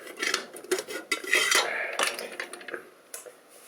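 A metal pressure cooker lid is unlocked and lifted after cooking rice, giving a string of close metallic clanks, scrapes and rattles of varying loudness.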